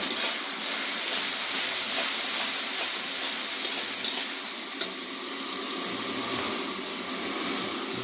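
Onion dropped into hot oil with caramelizing sugar, a dense, steady, close sizzle and hiss that holds loud throughout, easing slightly toward the end.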